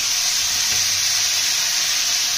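Potatoes and green chilies fry in a hot pan with onions, giving a steady, loud, even sizzle that holds without a break for the whole stretch, with no talk over it.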